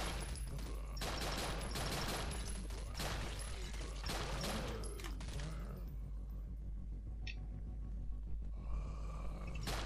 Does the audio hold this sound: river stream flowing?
no